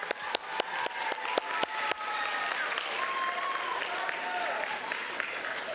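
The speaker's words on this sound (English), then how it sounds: "Now we have applause." An audience at a school spelling bee gives a loud, steady round of applause that follows a few sharp knocks or claps and carries on for several seconds.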